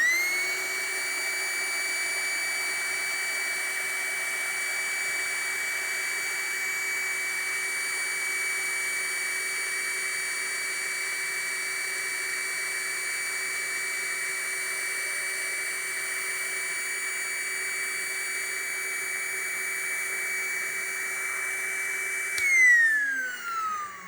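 A Bosch EasyInflate cordless pump inflating an air bed through its front hose, a steady whining motor drone held evenly for over twenty seconds, then a brief shift in pitch and a short thump as it stops.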